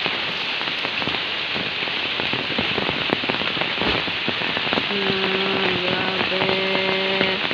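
Heavy rain from Typhoon Ulysses pours steadily and loudly on surfaces, a dense continuous hiss with scattered drips and knocks, while a brief voice speaks and a steady tonal hum joins near the end.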